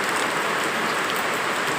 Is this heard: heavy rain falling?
yes